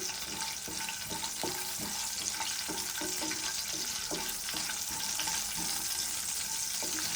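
Steady sizzling of baby corn masala frying in a pan with green chillies, with soft scraping of a spatula stirring at irregular intervals.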